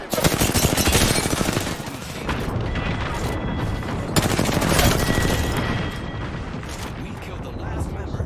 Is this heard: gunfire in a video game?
yes